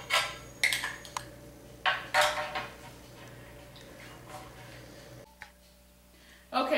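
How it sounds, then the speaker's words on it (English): Chocolate cake filling being mixed with cream in a bowl: a series of clinking utensil strikes and scrapes against the dish, close and intermittent, with a quiet pause before a final clatter. "Now I'll mix this with the cream."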